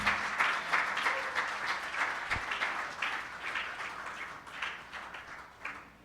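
A church congregation claps to acclaim the Lord, a sustained round of steady applause from a crowd that fades slightly toward the end.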